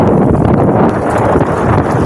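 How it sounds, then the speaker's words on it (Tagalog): Strong wind on Gorang Island off the coast, blowing as a loud, steady roar that buffets the microphone, with waves likely churning underneath and no voices. "sobrang lakas ng hangin at alon"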